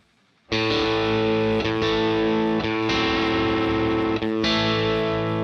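A bright, chimey electric guitar through an amp simulator with effects plays sustained chords loudly, with a few brief chord changes and no voices.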